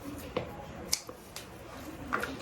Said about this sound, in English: I'm gonna go ahead and start with these scissors, and then I'm just gonna cut down at the base.